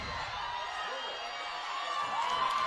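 Home crowd at a girls' high school lacrosse championship game cheers and whoops, a distant roar building toward the end, with a commentator talking over it.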